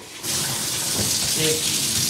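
Water runs steadily from a tap, a broad hiss of flow that starts abruptly and continues, with faint voices underneath.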